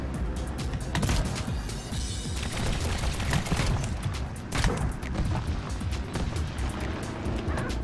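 Rapid bursts of tank machine-gun fire in the Trailmakers video game, shots rattling off in quick succession over a steady rumbling engine-like background, loud and dense with no talk.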